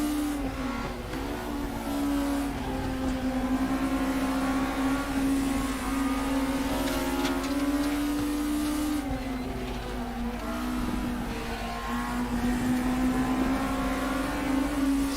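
A BMW race car engine in the RaceRoom Racing Experience sim drones steadily and loudly throughout, its pitch rising and falling gently with throttle changes, with no speech over it.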